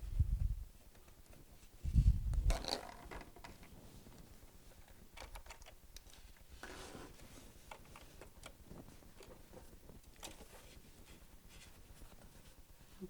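A sewing machine stitches a zipper into a lip-template zipper pouch. Two short, louder bursts of running stitches are followed by a quiet, steady ticking with no talk.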